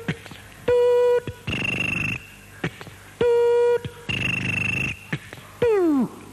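A cellular telephone rings on a television talk show, its electronic tone repeating in loud, evenly spaced bursts with short gaps between them.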